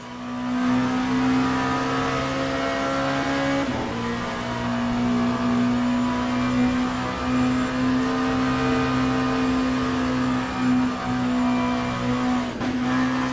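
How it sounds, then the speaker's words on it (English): Race car engine in the sim racing game Le Mans Ultimate holds a loud, steady droning note that dips around the four-second mark and again near the end, as if losing power with the throttle held flat. "Like I'm losing power, like my foot's to the floor and I can hear the engine note dying."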